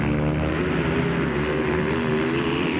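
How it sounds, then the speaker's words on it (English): Supermoto motorcycle engines at a 2018 FIM Asia Supermoto Championship race start in Thailand roar loudly together, a dense, continuous revving drone with layered engine harmonics. "as we hear the revs building and click in gear as they head off"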